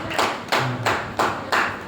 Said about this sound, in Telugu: ప్రభులకు చప్పట్లు కొడతామని.